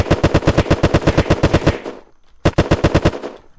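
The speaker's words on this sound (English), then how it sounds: "Dude, they had shotguns." Rapid bursts of shotgun fire from enemies in the survival game Unturned, a loud close volley of repeated blasts that breaks off after about two seconds and then resumes.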